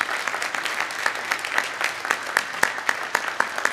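A church congregation applauds to welcome newcomers at a Sunday worship service, steady, dense clapping from many hands filling the room for several seconds.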